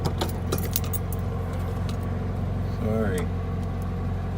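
A 1966 Volkswagen Beetle setting off on a drive: its engine runs with a steady, close low hum and rumble while keys jangle briefly at the start, and a voice speaks a single short word.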